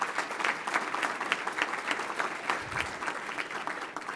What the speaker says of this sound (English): Let's give one more round of applause for all of them.